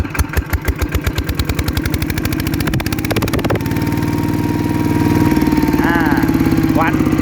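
A Yanmar 115 diesel engine, freshly fitted with new crankshaft bearings, chugs at a loud, close idle with fast regular firing pulses, then revs up into a denser, steadier roar; a faint voice is briefly heard over it.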